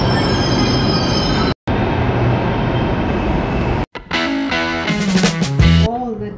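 A metro train heading toward Rohini rumbles loudly along the track. Brief drops cut into the noise, then sharp, shifting wheel squeals and tonal whines rise over the running noise near the end.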